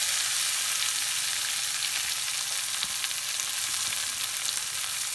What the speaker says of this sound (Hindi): अब इसमें मैं ये सारी पोहा डाल दूंगी